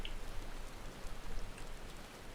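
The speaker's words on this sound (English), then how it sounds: "A really, really horrible rainy day inside this game today." Rain falls in the video game Final Fantasy XIV as a soft, continuous patter of drops on the ground, faint and even, with no voices.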